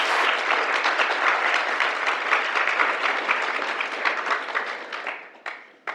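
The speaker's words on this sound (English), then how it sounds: "let's welcome our panelists with a big round of applause." A large audience applauds steadily to welcome panelists at a literary panel event, dense sustained clapping that holds at full strength before tapering off near the end.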